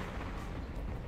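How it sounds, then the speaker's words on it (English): A grenade blast in Conflict: Desert Storm 2 on PS2, a dense rumbling boom sustained at steady loudness for about a second, with no voices over it. "Just threw a grenade."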